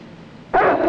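A dog lets out a sudden short bark or yelp after a quiet moment, close and fairly loud, ending with a brief whimpering tone.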